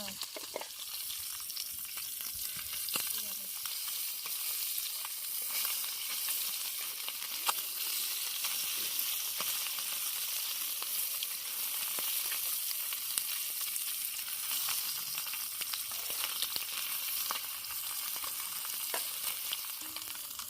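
River fish frying in a pan outdoors by a riverside, a steady close sizzle of hot oil throughout, with faint stirring clicks and no talking.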